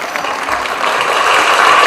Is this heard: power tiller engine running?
no